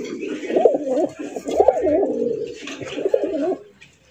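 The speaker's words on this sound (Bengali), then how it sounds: "বন্ধুরা এখানে রয়েছে চমৎকার একটা বিশাল সাইজের সুপার মিলি রেসারের কালেকশন দেখতে পাচ্ছেন" Racing pigeons of a large, light-coloured fancy racer breed coo steadily in repeated warbling rolls, close and fairly loud, with faint background noise and no talk, fading out near the end.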